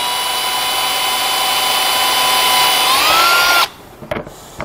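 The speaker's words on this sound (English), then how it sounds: "and drill out our pilot hole." A power drill bores a pilot hole in a panel of a 2020 Hyundai, whining loud and steady for several seconds before cutting off, followed by a few faint clicks.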